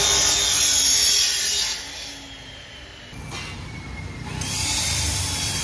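Long 20-foot iron rods being cut with a power saw, a loud, shrill grinding whine that drops to a lower rumble partway through and then rises again.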